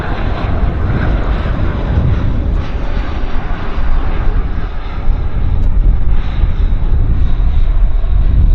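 Airliner landing at Vancouver International Airport (YVR), heard from an outdoor spotting position: a loud, continuous engine roar and rumble holds steady throughout, with faint background noise and no clear talk.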